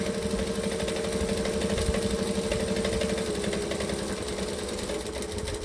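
A sewing machine runs steadily at a deliberately slow pace while stitching binding on a quilt, a continuous mechanical whir with a rapid needle pulse, close and alone throughout with no talking.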